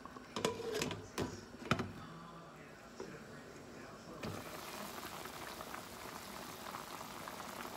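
A pot of chicken feet adobo boiling steadily, a dense close bubbling and simmer hiss that runs throughout, with a few knocks and clatters early on.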